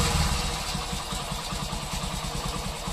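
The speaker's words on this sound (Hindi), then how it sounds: "ये देख सकते हैं बाइक हमारा बिल्कुल भी रेस नहीं ले रहा है दोस्तों" A motorcycle engine runs at a steady idle after a throttle wire repair. The putter is close and rhythmic, with a pulsing beat that keeps an even pace and never revs up.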